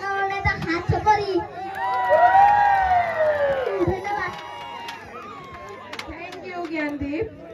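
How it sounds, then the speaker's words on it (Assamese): A crowd at an Assamese fan meet-up cheers and whoops, with loud rising shouts and excited voices swelling, then settling into scattered calls and chatter as people talk. "এটা হাত চাপৰি"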